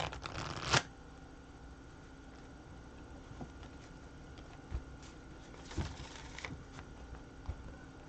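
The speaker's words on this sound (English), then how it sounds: "And one more shuffle just for good luck." A tarot card deck riffled in one loud burst at the start, followed by quieter scattered taps and card handling in a still room.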